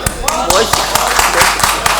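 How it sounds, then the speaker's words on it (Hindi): Audience applause at a bilingual poetry session: sharp, fairly regular claps close by, mixed with voices talking. "तालियां"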